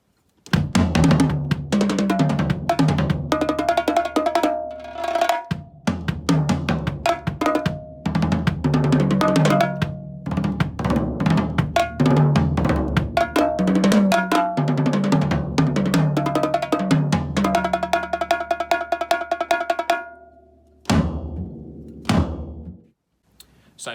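Percussion passage played on toms, bongos and cowbell with double strokes, dense rapid drum hits and ringing metallic accents running busily, then stopping with a few final strokes.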